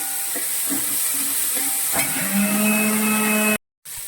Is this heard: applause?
no